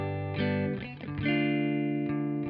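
An electric guitar through an amp simulator plugin, with a distorted, amp-like tone, rings out in sustained chords and notes, close and fairly loud with no talking.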